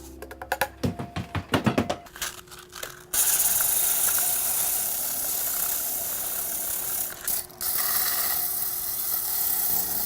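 Sanding a turned wooden bowl with 220 grit sandpaper, likely on a lathe: a series of rattling clicks gives way to a loud, continuous hissing rasp that holds steady with a brief dip.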